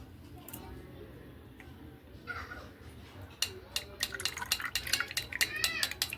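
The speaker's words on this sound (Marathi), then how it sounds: "आता इथे मी चाळणी घेतली आणि चाळणीने याला गाळून घेते" Jaggery liquid for kharvas is poured and strained through a sieve, with a soft steady wash giving way to close, repeated metal clinks and scrapes of a utensil against the sieve.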